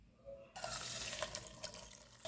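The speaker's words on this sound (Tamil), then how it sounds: "இதே கப்பில் ஒரு அரை கப் தண்ணி உடனே இதில் சேர்த்துக்கலாம்" Half a cup of water poured into a pot of seaweed for kadalpasi pudding, a sudden close splashing pour starting after a brief quiet moment and running steadily to the end.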